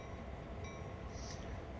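Long freight train in Train Sim World, a faint steady rumble of rolling wagons that holds even and distant for the whole moment, with a light metallic tone drifting in briefly.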